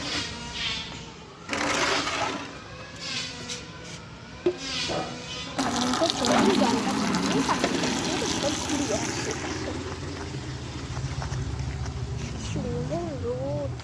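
Water is poured into a container at home in the evening, a rushing, splashing pour in the middle of the clip, partly masked by talking and household background noise.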